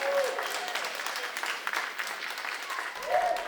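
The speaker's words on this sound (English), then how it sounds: "Let's give them a round of applause." A live audience applauds judges and competitors at a cookie competition final, with steady, dense clapping throughout the short burst and a voice faintly audible beneath it.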